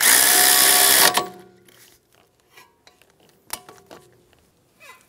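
A power tool whirs loudly for about a second while snugging the brake hose bracket bolt on a 2013-2017 Honda Accord front strut, then stops, followed by scattered faint metallic clicks and tool handling.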